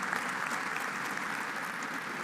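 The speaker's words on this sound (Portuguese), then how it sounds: "E na sequência, aplausos," Audience applause for a speaker at an auditing congress, a soft, even patter of many hands heard from a distance, sustained throughout.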